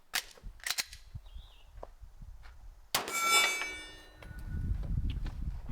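Gunshots from a handgun firing Supervel 115-grain ball through a non-ported barrel, a few sharp loud reports heard from a short distance, followed by ringing metallic echo and outdoor rumble.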